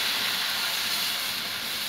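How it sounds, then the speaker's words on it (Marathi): Water poured into hot tempering for a king fish (surmai) curry, giving a steady, loud hiss and steam sizzle that holds evenly throughout, with no voices. "फोडणी आपली सगळीकडे लागलेली आहे आणि आपण त्यात आता पाणी टाकणार आहोत."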